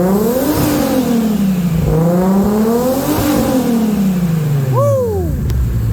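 A Nissan S14 drift race car fitted with a muffler revs hard in repeated rising and falling pulls, loud and close, ending with a quick sharp blip and drop.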